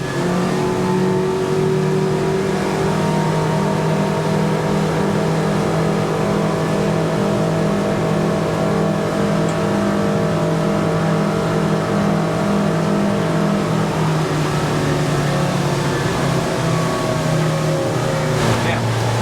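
Twin Yamaha 200HP outboard engines on a plate aluminium boat running at wide open throttle, a loud, continuous droning roar with steady harmonic whine held for the full length, up close, with a voice speaking over it.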